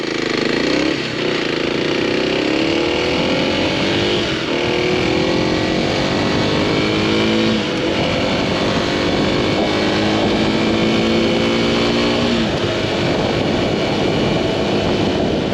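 A Kawasaki KLX300 dual sport motorcycle rides on the road with a loud, steady engine drone and heavy wind rush. Its pitch climbs repeatedly through the gears, with shifts marking each new rise.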